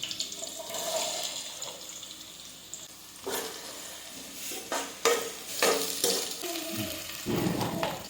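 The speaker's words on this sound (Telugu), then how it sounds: "ఫ్రెండ్స్, ఇప్పుడైతే ఉల్లిగడ్డ వేసుకుందాము" Chopped onions fry in a pan for a chicken curry, giving a continuous sizzle broken by irregular bursts of scraping and stirring that swell and fade, near and fairly loud.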